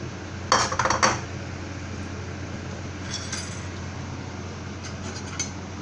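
A spoon stirs duck red curry with kaffir lime leaves and stock in a pan, giving a quick cluster of metallic clinks and scrapes early on, then a few softer taps over a steady low background.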